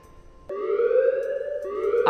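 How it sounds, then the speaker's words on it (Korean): A monster alarm siren in the horror game Apeirophobia starts abruptly and wails steadily, a loud rising electronic tone that holds and then swells again. "괴물이 나오면 경보가 울리는데 거기서 한 번 더 걸리면 사망."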